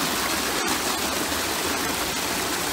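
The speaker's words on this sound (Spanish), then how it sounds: "Aquí está la fuente de sulfato. Aquí está el agua." Sulphur spring water flowing steadily at an old abandoned spa, a dense close hiss of running water that stays even throughout, with no voices.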